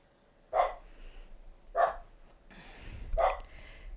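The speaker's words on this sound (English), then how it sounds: "I'm yet again going to say why my dog's screaming." A dog barks three times in sharp, loud bursts spaced about a second apart, with faint game sounds in the background.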